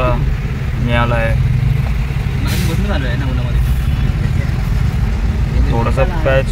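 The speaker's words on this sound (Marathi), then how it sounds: "मित्रांनो, ट्रॅफिक जरा मिळाला आहे" Dense road traffic on a highway toward Gujarat near Virar and Vasai, a loud steady rumble of trucks and cars with a brief hiss, heard under someone talking.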